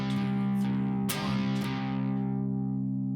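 An electric guitar with a distorted effects tone strums an accented rhythm, a few sharp, harder-hit strokes ringing out over a sustained chord that slowly fades.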